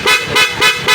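A loud aftermarket horn on a Honda ADV 160 scooter blares in rapid short beeps, about four bursts in quick rhythm, close and loud.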